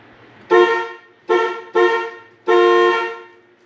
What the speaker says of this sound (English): First time honking my horn.